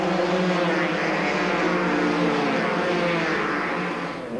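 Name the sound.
rally motorcycles racing down airstrip runway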